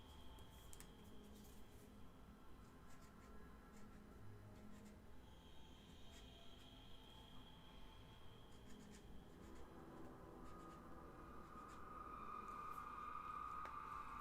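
Pen scratching out a label on a paint wash bottle for black wash, heard as a steady, faint scratching run that lasts throughout with no talk.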